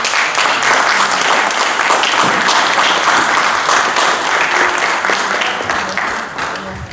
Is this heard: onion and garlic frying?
no